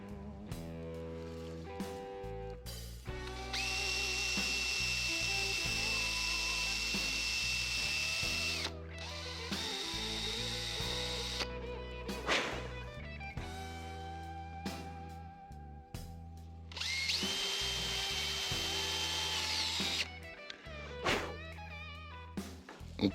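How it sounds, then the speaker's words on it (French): A drill bores holes with a 2 mm bit, whining in repeated bursts of varying pitch with brief pauses between holes, close and loud. "Et on perce à la mèche de 2."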